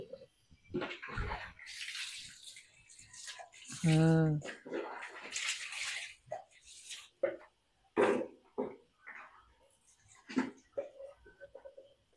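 Water pours over Bruno, a Labrador, during his bath, heard as a short splashing gush midway through, with people talking throughout and the dog stirring now and then.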